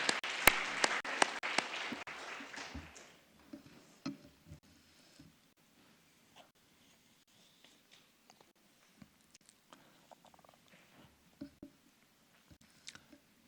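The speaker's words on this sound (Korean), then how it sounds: "우리 한번 하나님께 영광 돌리는 박수를 드리겠습니다." A short burst of congregation applause in a church fades out within a few seconds, leaving a quiet room with scattered small clicks and shuffles.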